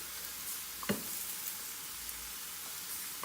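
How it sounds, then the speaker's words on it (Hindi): Chicken pieces frying in a pan for biryani, giving a steady soft sizzle with a few faint clicks and taps of a utensil, with no voices. "और अब इसके अंदर मैं अपना ये जो चिकन है ये जो है फ्राई करूँगी अच्छे से।"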